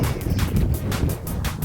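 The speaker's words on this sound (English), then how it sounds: "There's way too much wind today." Strong wind gusts across a lake on a bass fishing outing and buffets the microphone into a loud, continuous low roar. The wind surges and pulses in waves, and no voices are heard.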